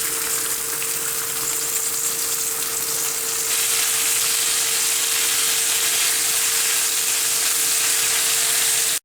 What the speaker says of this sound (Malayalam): ഹൈ ഫ്ലെയിമിൽ അരി ഒന്ന് വറുത്തെടുക്കാം.